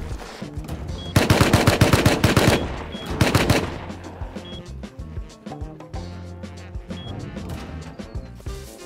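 An AK rifle fires in the survival video game Rust. Rapid automatic bursts crack out loudly, one after another, then give way to scattered lighter shots and game noise.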